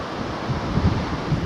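Strong wind buffets the microphone on a coastal walk after a storm, a steady low roar with gusty swells and no voices, close and fairly loud throughout.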